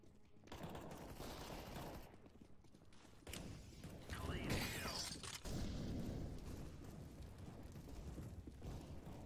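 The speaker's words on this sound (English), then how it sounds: "Throwing flashbang." A flashbang grenade goes off in a Counter-Strike: Global Offensive match, with a loud burst mixed into ongoing gunfire and game noise while players talk.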